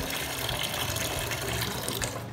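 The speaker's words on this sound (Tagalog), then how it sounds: "buksan lang natin yung tubig" Water from a tap pours steadily into a bucket, a continuous rushing splash at moderate level that holds evenly throughout with no voices.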